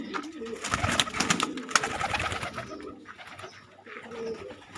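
Kante Kash pigeons coo nearby in soft repeated throaty calls, with wing flutters and rustling in a loft.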